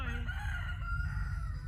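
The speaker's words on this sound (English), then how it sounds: "You hear the rooster?" A rooster crows in a long drawn-out call, moderately distant, over a steady low rumble of background noise.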